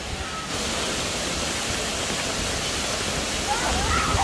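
Abungan Falls in Dingalan, Aurora pours as a constant broad rushing roar of falling water that fills the whole scene, with voices of people nearby at times.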